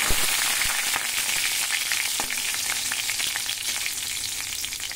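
Chili and two bay leaves dropped into hot oil in a pan, giving a loud, continuous bright sizzle with scattered crackles and pops, close up and with no talking.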